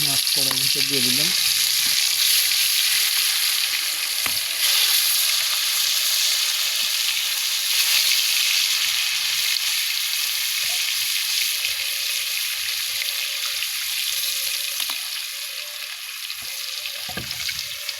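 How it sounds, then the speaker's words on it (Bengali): Fish dropped into hot oil in a wok for a fish curry with taro and Malabar spinach, sizzling loudly and continuously with spattering crackles, easing off slightly toward the end. "মাছ কড়াইয়ের ভিতর দিয়ে দিলাম।"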